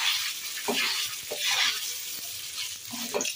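Cumin seeds, a handful of curry leaves and dried red chillies hit hot oil for a kadhi tempering, giving a loud, continuous crackling sizzle with bursts of spluttering, heard close up with no talk.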